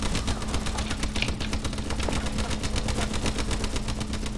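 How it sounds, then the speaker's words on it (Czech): Rapid automatic gunfire in Call of Duty: Advanced Warfare rattles continuously at an even, fast rhythm, loud and dense throughout with no break. "Nevím, kdo mi střílí"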